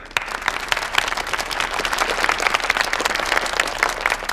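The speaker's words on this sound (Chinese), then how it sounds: "让我们再次把掌声送给我们的史蒂夫先生" An audience at a company annual gala applauds with dense, steady clapping from many hands that swells slightly and carries on throughout, with no speech over it.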